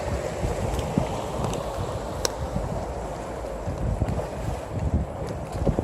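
A gondola ride on the Grand Canal in Venice, with a steady wash of water and gusty wind noise across the microphone, continuous and fairly loud, with occasional faint knocks.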